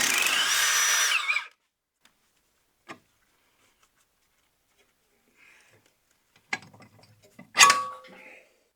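Power tool loosening the top mount on the rear axle of a 2008 Ford Mustang, with a loud sustained burst at the start, quiet gaps and a few clanks, then short whirring bursts near the end.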